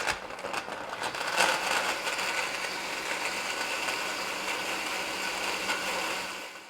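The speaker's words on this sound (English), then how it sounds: "So we'll blend that up and take a taste." Blender whirring through a raw teriyaki stir-fry sauce with pepper, a loud steady motor grind with rattling mechanical texture, running alone for several seconds before tapering off at the end.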